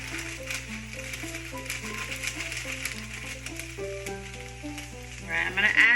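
Fideo noodles fry in oil in a pot, giving a steady soft sizzle that sits underneath louder melodic background music, with a brief brighter crackle near the end.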